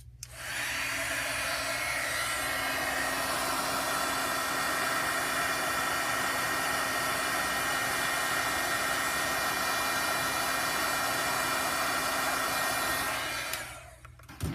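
Heat embossing tool blowing hot air over white embossing powder on a handmade bee thank-you card, a loud, steady whooshing roar held for about thirteen seconds before switching off.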